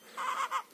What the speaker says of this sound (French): Ici, c'est les poules.